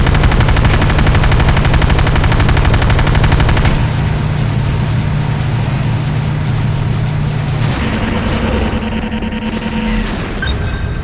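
Rapid gunfire rattles loudly in the Renegade video game as a GDI harvester comes under attack, dense bursts over a steady low engine drone that shifts partway through.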